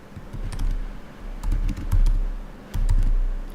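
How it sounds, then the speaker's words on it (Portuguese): A computer keyboard clacks in quick bursts of keystrokes as an author's name is typed into a Word document, nearby and fairly clear, with short pauses between the runs. "Vou digitar o nome do autor,"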